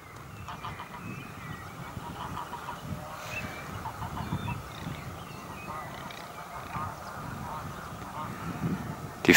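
Geese honk repeatedly at a moderate distance at Steinhuder Meer lake, a lively chorus of nasal calls over outdoor ambience, with other fowl faintly clucking.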